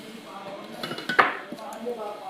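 A plate is picked up and set down in a home kitchen during bread and potato snack prep, giving a few sharp ceramic clinks and knocks, one louder clatter in the middle, with someone talking over it.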